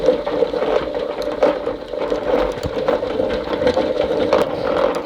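A honey extractor, bolted to the ground and slightly wobbly, spins bee frames with a continuous close whirring hum, a steady mid-pitched mechanical drone with irregular rattles and knocks.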